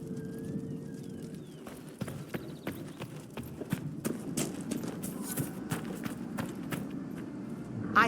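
Horse hooves in Dragon Age Inquisition, a chestnut purebred Ferelden forder clip-clopping at a steady walking pace, clear and close over soft ambient background, with occasional faint birdsong and no speech.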